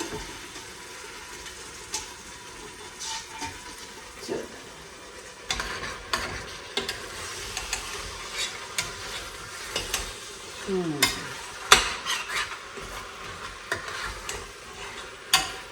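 Rajma masala with red chili roasts in a pan, a soft steady sizzle broken by frequent scraping and clinking stirs of a spoon against the pan, close and moderately loud, no speech.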